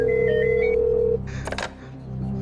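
A telephone rings with a steady electronic tone, then cuts off with a click as it is picked up, for a quiz show phone-a-friend lifeline, with background music softly underneath.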